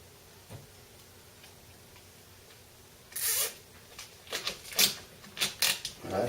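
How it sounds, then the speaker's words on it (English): A zip tie is pulled tight around a layup for an RC model, giving a quick series of close, sharp ratcheting clicks in short bursts after a quiet stretch, with no talking. "I'm going to shove this down and put one zip tie in it."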